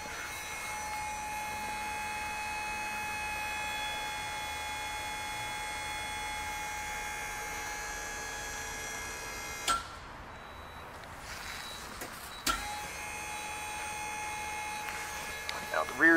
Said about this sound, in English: Now all we need to do is just hit auto level. So now it's going to automatically level out the unit.